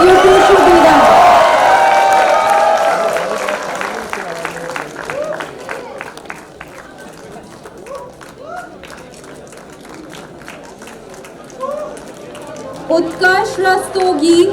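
An audience at a convocation ceremony claps and cheers, starting loud under a speaking voice and thinning to scattered claps and whoops, then swelling again near the end.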